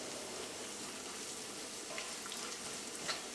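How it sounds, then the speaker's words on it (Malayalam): Turmeric powder frying in oil over a medium flame for a ginger pickle gives a faint, steady sizzle with light crackles, close and continuous, with no talking. "അപ്പോൾ മഞ്ഞൾപ്പൊടി എണ്ണയിൽ കിടന്ന് നന്നായിട്ട് മുരിഞ്ഞിട്ടുണ്ട്"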